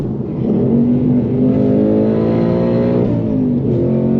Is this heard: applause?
no